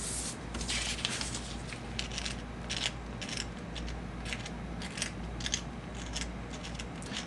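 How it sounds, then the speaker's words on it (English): Scraping natural cheese rind with a tool, taking a sample from one area of the wheel: a close, dry, repeated scratching in short irregular strokes over a steady low hum. "I'm going to scrape a little bit more just so I make sure we have enough sample for our study"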